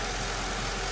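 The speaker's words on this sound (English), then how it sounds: "obviously they're working because the engine is running smooth" A 2006 Mercedes CLS500 engine idling smoothly after a coil pack misfire fix, giving a steady, even hum with no breaks or stumbles, close and continuous.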